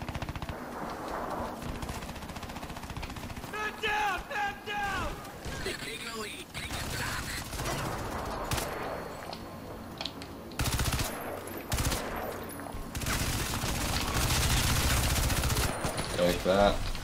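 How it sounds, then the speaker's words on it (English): Bursts of rapid gunfire crackle through a busy Crysis 3 soundscape, with voices talking over parts of it and loud volleys near the end. "I heard gunshots close."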